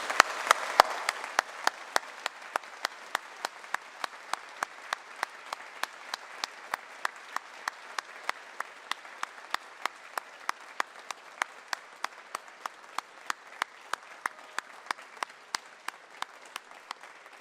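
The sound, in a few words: staff applauding graduates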